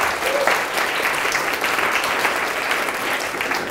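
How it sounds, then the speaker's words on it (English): Steady, dense applause from an audience at a coding bootcamp demo day held at Impact Hub Tokyo, sustained at an even level throughout with no pauses. "I think they deserve a round of applause"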